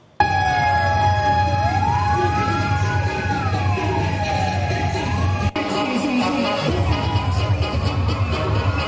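A fire truck siren wails loudly throughout, its pitch sweeping up and down over a steady engine rumble and a crowd of students murmuring nearby at a school graduation celebration in Bekasi.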